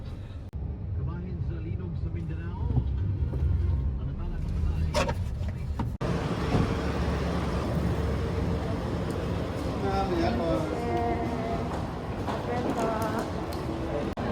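City traffic near a Mercure hotel in Cebu rumbles steadily, with passing cars and engine noise close by and a brief hiss partway through, while people talk over it.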